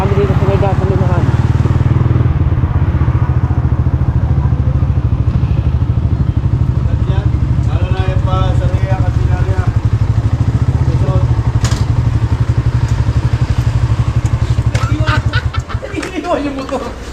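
A motorcycle engine chugs loudly and steadily throughout at a petrol station during heavy rain, with voices and some laughter over it before it cuts off near the end.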